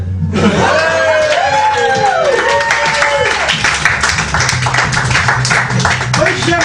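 Applause from the audience at a Doctor Who comedy night, continuous clapping from a crowd mixed with voices and sliding tones of a voice or music over it, loud and sustained throughout.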